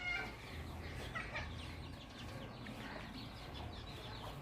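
Chickens clucking at a rural Thai-Lao village homestead, several hens fowl-calling in short irregular bursts at moderate distance over a steady low background rumble, with no one speaking.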